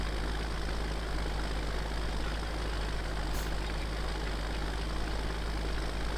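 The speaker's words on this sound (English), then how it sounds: "The tractor is going nicely." The TW-35 tractor engine in a farming video game drones steadily at a constant pitch for the whole stretch, with a deep, even rumble and no breaks or revving.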